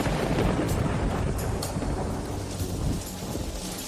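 Steady, loud rain pours down over a city capital, a dense broadband wash with rumbling low-end thunder, continuous throughout with no voices.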